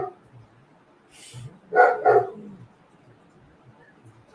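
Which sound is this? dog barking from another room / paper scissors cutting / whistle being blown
dog barking from another room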